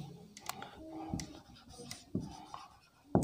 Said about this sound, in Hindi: इसको रेड पेन से लिखेंगे हम।